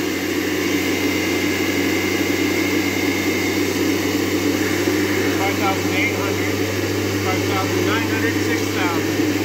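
A Tesla turbine under load test runs with a loud, steady whine and hum, a man calling out readings over it.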